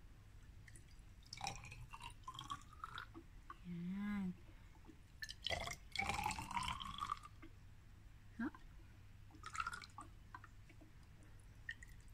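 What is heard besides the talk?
water being poured into glass test tubes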